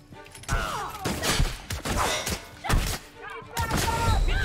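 Shotgun fire in The Outer Worlds, several heavy booming blasts in quick succession amid chaotic combat noise, with a voice shouting between the shots.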